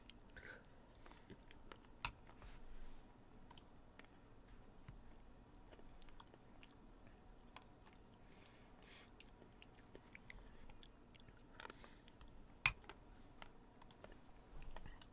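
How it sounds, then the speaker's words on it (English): Someone munching overnight oats made with protein powder, honey, banana and dark chocolate chips, close to the mic: soft wet chewing with a few sharper crunchy clicks, likely from the chocolate chips, over a quiet room background. "Sorry, I'm munching."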